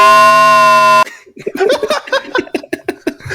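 Local access emergency weather alert tone, a loud, harsh, steady buzzing tone lasting about a second, cut off abruptly and followed by people laughing and talking.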